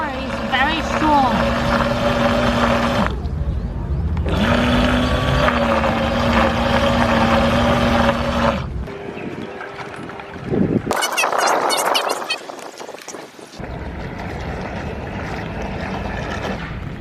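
Small toy fishing bait boat with twin motors and guarded propellers, a high-pitched motor whine running steadily on water, interrupted by gaps, splashy bursts and shifts in tone as it moves.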